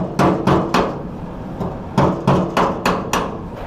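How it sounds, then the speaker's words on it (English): A piece of wood taps against a metal cross member on the bed of a 1962 Chevy C10 pickup, giving about ten sharp, close knocks in an irregular rhythm with a ringing metallic edge. "I'm using this wood whenever I got to tap on something"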